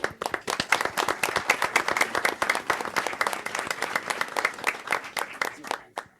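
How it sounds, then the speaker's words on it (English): A room of people at a county board of commissioners meeting applauds steadily for about six seconds, dense clapping from many hands at close to moderate distance, with no talking. "All right, so round of applause"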